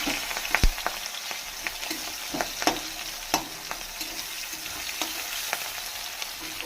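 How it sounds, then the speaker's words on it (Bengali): Onion and green chilli sizzle in a wok with cumin in oil, a continuous crackling hiss punctuated by sharp knocks and scrapes of a spatula stirring at irregular intervals. "হালকা একটু ভাজা ভাজা করে নেব।"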